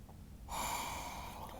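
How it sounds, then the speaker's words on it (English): A single deep, sustained inhale through the nose during a yoga stretch, close and clear, starting about half a second in and continuing to the end. "And another big breath in."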